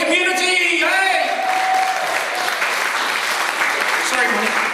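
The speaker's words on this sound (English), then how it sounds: "Another big round of applause for our Niuean community" Crowd applause at a Toa Pasifiki anniversary celebration in Auckland, steady broadband clapping holding across the whole stretch, with a voice and cheering tones over it at the start.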